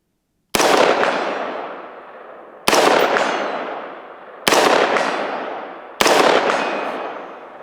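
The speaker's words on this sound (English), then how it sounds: "I'm gonna shoot out to 100, see what the recoil's like" Four heavy rifle shots fired toward a target at 100 yards, each a sharp loud crack followed by a long rolling echo that decays over about two seconds, evenly spaced outdoors.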